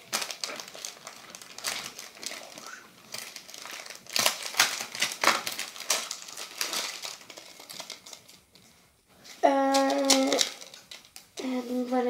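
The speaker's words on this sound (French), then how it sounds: "J'ai acheté une paire de boucles d'oreilles comme ceci que je vais ouvrir" Packaging of a cheap pair of earrings being opened, with repeated crinkling and crumpling of plastic and card, close and uneven, along with a brief speaking voice near the end.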